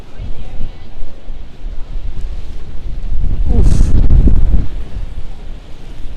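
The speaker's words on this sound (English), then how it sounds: "I think the Hudson Yards is going to be a no-go tonight. It's just too windy." Strong gusts buffet the microphone on a Manhattan street at night during a rainstorm, a loud low rumbling roar that swells to a peak midway, with a brief exclamation from a voice.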